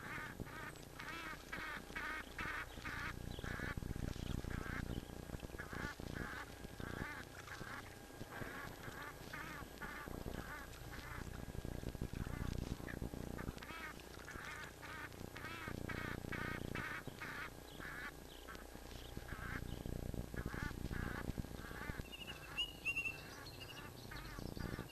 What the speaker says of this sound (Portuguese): poços esparsos, com seus belos nadadores, os gansos egípcios